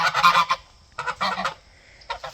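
Several geese honk in loud, overlapping bursts, a cluster at the start, another after a pause, then a few shorter calls near the end.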